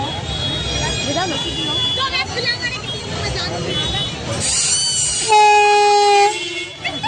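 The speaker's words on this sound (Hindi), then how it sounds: "वाह क्या ट्रेन की आवाज थी।" A train passes loud and close, its rumble mixed with crowd babble and a festival hubbub, and a long horn blast sounds near the end.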